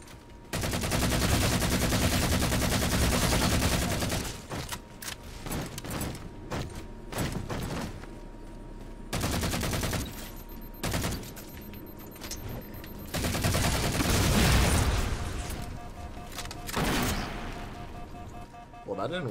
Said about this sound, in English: I keep shooting my grenades!